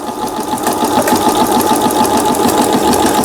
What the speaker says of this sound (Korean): 스티치 박음질 패턴들 정상적으로 박음질 되고 있습니다.